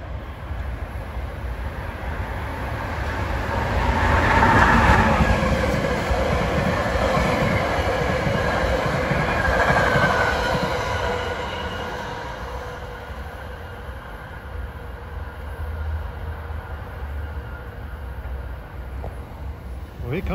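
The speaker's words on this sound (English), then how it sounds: "approaching at 5:43 is train 9595, bound for Thorndale with the push-pull equipment" A push-pull commuter train, number 9595 bound for Thorndale, approaches on the Philadelphia main line with a steady rumbling roar that swells to a peak, then fades and recedes into quieter background noise.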